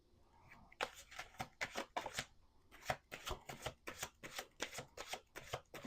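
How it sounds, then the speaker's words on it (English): Tarot cards shuffled by hand in a rapid train of crisp riffling bursts, close and fairly loud, following a quiet start, with no talking. "Let's do 2 more shuffles."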